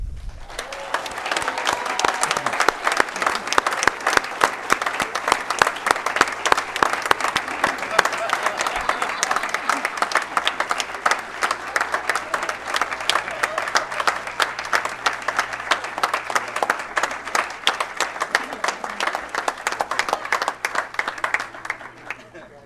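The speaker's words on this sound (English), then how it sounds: "please join us in a round of applause for this year's female scholarship winner, Tricia Steffen." Banquet crowd at a 2011 sports awards dinner applauds the female scholarship winner with long, sustained clapping from many hands, steady and fairly full for about twenty seconds before tapering off, with some voices mixed in.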